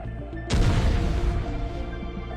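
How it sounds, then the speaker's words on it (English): Explosion from a Russian Molniya FPV drone strike: a sudden, loud broadband blast erupts about half a second in, then a heavy rumbling roar lingers and slowly fades to the end. "Pretty crazy explosions."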